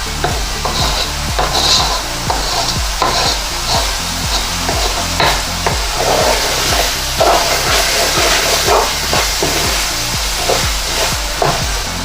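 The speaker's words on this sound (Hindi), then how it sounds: "इसको खूब अच्छी तरह से रोस्ट करें।" Urad daal (mash lentils) roast in a hot pan with a steady sizzle, while a spoon scrapes and stirs in a regular rhythm of soft knocks, close and fairly loud.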